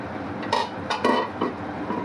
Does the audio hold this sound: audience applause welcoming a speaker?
no